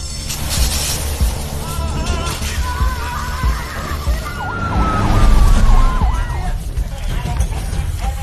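Wailing emergency siren, a fire engine arriving in a film scene, rising and falling over traffic and background noise, loudest in the middle and fading toward the end.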